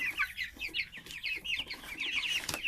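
Chickens being raised in hot weather cluck in a steady, busy stream of short repeated calls, fairly close, with no talking over them.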